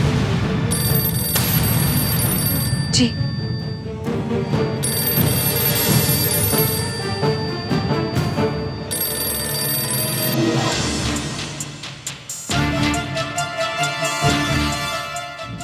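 A telephone rings in repeated bursts in a television drama scene, heard over a busy dramatic music score with booming hits, and a voice briefly answers.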